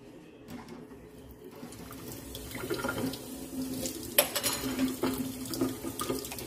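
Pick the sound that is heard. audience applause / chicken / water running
water running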